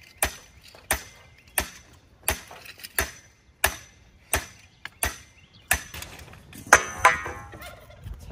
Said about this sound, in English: we're going to have to pound in a post here that will actually do the cranking